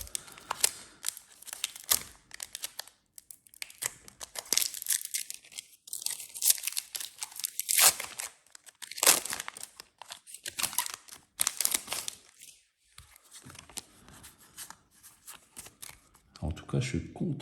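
A Pokémon card booster pack is torn open and handled, giving bursts of crinkling foil, tearing and card shuffling, with a person talking between the rustles.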